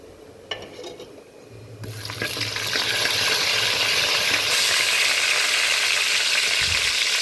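Cumin seeds and asafoetida sizzling in hot oil for chole, the frying rising to a loud steady hiss after a quiet start with a few stirring clinks, no talking.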